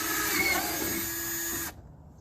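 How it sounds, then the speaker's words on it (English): A power drill whirs steadily as it bores a lead hole into a food grade plastic barrel, a close continuous high whine that cuts off abruptly. "So first we draw our lead hole with the drill."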